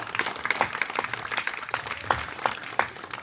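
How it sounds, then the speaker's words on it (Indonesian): A concert crowd at a simple religious music show claps for a preacher, a brisk, moderately loud patter of hands with a few distinct close claps standing out. "Tepuk tangan dong yang ikhlas buat beliau."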